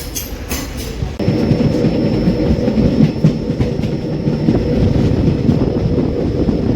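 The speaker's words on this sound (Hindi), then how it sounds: "तो ट्रेन हमारी अपने दूसरे स्टॉप पुखराया पहुँचने वाली है।" Gomti Sagar Express passenger train rolling steadily on its rails near Pukhrayan, a continuous loud rumble of wheels and carriage that swells after a second and holds throughout, with a faint high whine above.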